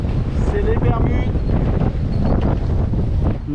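Strong wind at sea aboard a sailboat crossing from the Bahamas to Bermuda makes a loud, constant buffeting roar of wind noise with water wash beneath, and faint voice-like sounds surface in the gusts.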